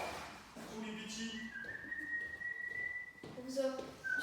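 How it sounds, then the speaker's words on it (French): A person whistles a few wavering, improvised notes indoors during an apartment renovation in an old brewery, with low room noise underneath and a voice briefly audible. "Je siffle."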